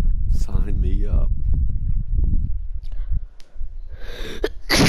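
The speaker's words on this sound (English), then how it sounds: "I hate sneezing with a sore throat." A sneeze from someone with a sore throat bursts out after a breathy intake, followed by muffled voice sounds and a second sharp sneeze-like burst at the end, close to the microphone amid game sound from a Call of Duty campaign.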